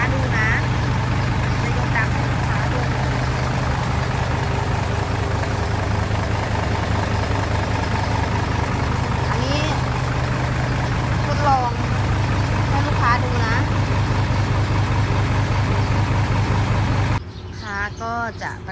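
A Hino Mega 175-horsepower dump truck engine idles steadily with a deep, continuous rumble, while faint voices and other sounds come and go on top. Near the end the rumble drops away.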